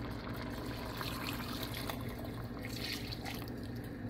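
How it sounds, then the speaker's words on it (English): Hot milk poured steadily into a pot of chicken chowder cooked from a 1700s colonial recipe, a continuous soft trickle and gurgle of liquid running for several seconds at close range, with no talking. "I've had my milk sitting here getting nice and hot. That is ready to add to our soup."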